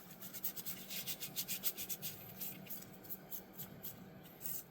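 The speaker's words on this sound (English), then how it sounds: "I'm just going to use some Scotch-Brite, give them a rub, get the loose stuff off" A Scotch-Brite abrasive pad is rubbed back and forth over antique fisherman knives, producing rhythmic, close scratchy strokes that repeat steadily and then continue more evenly without any talking.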